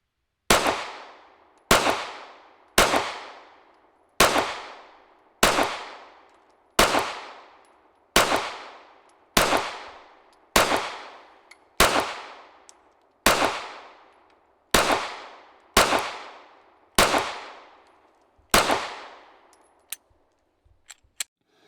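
Hellcat Pro pistol fired during recoil measurement: about thirteen sharp, evenly spaced shots, each with a ringing decay, loud and close, with no talking.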